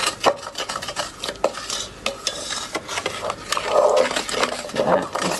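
A spoon stirring a Florentine mixture of sugar and flour in a pan, making steady scraping and clinking strokes against the bottom, close and fairly loud, with no talk.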